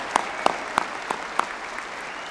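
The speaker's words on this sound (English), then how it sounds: "a round of applause." Graduates and guests at a spring college graduation ceremony give a short round of applause, soft and distant in a large hall, a few louder claps standing out from the steady patter.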